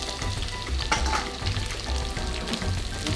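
Ingredients for green beans and chicken, including flake pepper and diced scotch pepper, sizzle loudly and steadily in a frying pan. Soft scraping stir strokes come through under the hiss.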